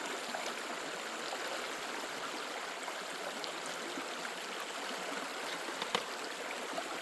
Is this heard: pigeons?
no